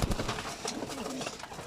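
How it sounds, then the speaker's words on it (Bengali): Pigeons being fed give soft, low cooing close by, a brief murmuring burst over light background noise. "এখন ওরা খাবে কবুতর।"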